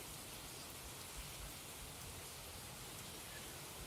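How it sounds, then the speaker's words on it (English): Rain falls steadily during a thunderstorm, an even, soft hiss that holds at the same faint level throughout, with no thunder or voices standing out. "it's rainy here and stormy. We've had a thunderstorm going on for about an hour now."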